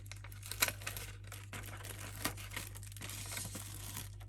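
A protective coating is peeled off a vacuum formed slot car race body, giving quiet close crinkling and soft tearing rustles with a few small snaps over a low background hum.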